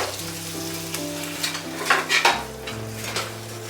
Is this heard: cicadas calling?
no